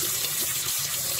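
A tap runs in a steady, broadband gush as a paintbrush stiff with dried acrylic paint is rinsed beneath it, close and continuous without a break.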